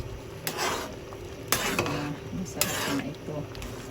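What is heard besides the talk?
stirring champorado chocolate rice porridge in a pot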